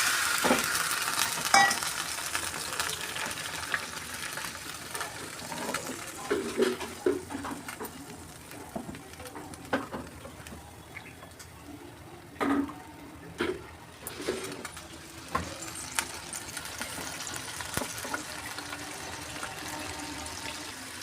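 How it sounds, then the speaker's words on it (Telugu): Oil sizzles and crackles steadily as chicken fries in a pan, with occasional clinks and stirring scrapes; no talking. "కొద్దిగా పాన్లో ఆయిల్ వేసుకున్నాను చికెన్ వేసుకుంటున్నాను"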